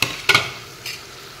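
Small fish are slid into a boiling curry and stirred, giving two quick scraping stirs and a third softer one over a low, steady bubbling simmer.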